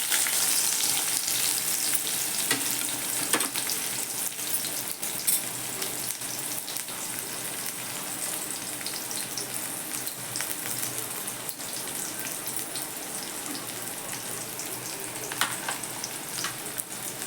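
Onion sizzles in a kadhai after cumin and mustard seeds, a steady close hiss of frying with faint crackles and occasional stirring, no one speaking.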